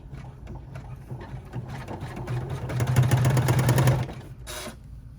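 Embroidery machine stitching a snap tab key fob, a steady mechanical whirring hum that swells louder in the middle, then drops to a quieter trimming hum, close by with no talk.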